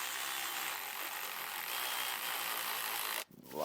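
Power tool running a bolt down on a 2023 Kawasaki ZX4RR motorcycle, a steady close whir that cuts off abruptly near the end.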